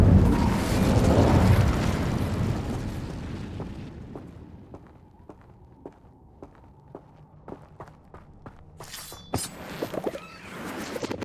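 Incendio fire spell cast in the video game Hogwarts Legacy, a loud whooshing fiery burst that decays over a few seconds, followed by quiet footsteps and later sharp magical chimes.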